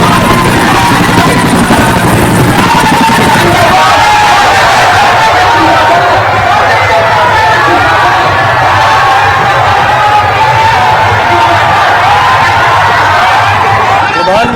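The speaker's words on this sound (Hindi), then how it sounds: "पीएम मोदी का हेलीकॉप्टर गांधी मैदान पहुंचा" A helicopter lands at a makeshift helipad on Gandhi Maidan ahead of a political oath ceremony, its loud rotor roar blending with a cheering crowd and voices throughout.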